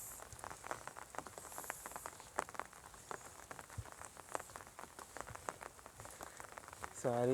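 Rain pattering steadily on a waterlogged crop field with peas, dense irregular drops close by and a brief voice at the very end.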